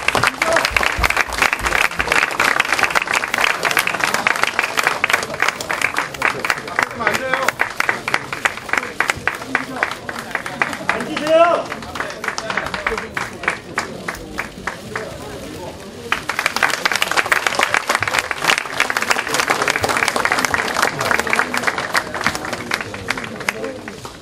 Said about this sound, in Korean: 축하의 박수, 격려의 박수 부탁드리겠습니다